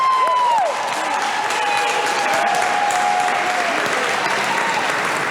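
Strong, sustained audience applause at a Newark Board of Education meeting honoring a champion marching band, dense and even throughout, with some crowd cheering mixed in.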